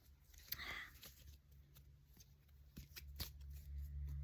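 Quiet riffling and snapping of playing cards being handled close by, in short irregular bursts over a low steady hum.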